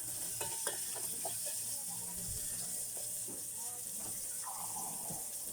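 Spring onion sautéing in a pan with a steady sizzle and frying hiss, scattered utensil stirring clicks and scrapes throughout, close and moderately loud.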